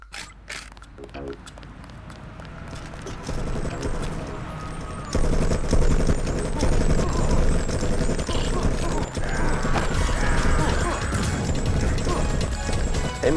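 Shotgun blasts and crashing combat noise from the video game Deus Ex, loud and busy, with a voice talking over the gameplay.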